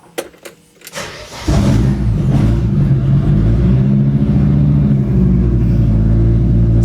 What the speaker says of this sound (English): let's see what this thing sounds like with no exhaust